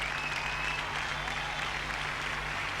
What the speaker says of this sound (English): I think at this point we deserve a round of applause for Pune